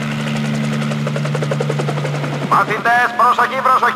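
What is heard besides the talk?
helicopter in cartoon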